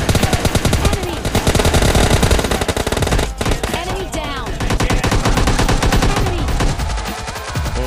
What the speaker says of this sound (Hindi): यहाँ पे अल्ट्रॉन जी को मार दिया एकदम शॉटगन से, ठा ठा पट से